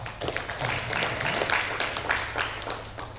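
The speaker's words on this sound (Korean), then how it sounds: "기도의 박수 한번 합시다" Church congregation at a Sunday worship service applauding together in prayer: steady, dense clapping from many hands that fills the room and lasts throughout, with no pause.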